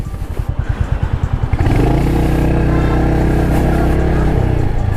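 Royal Enfield Hunter 350 motorcycle thumping at idle, then pulling away in gear as the single-cylinder exhaust rises into a loud, steady drone, close by and alone.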